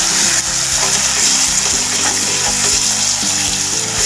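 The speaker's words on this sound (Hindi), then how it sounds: "और इसे हमें अच्छे से भूनना है जब तक मसाला हमारा अच्छे से भून ना जाए और ऑयल सेपरेट ना हो जाए" Masala and tomato puree frying in oil for cauliflower and pea kofta curry, a loud steady sizzle with bubbling, over a background hum of low tonal notes, with no one speaking.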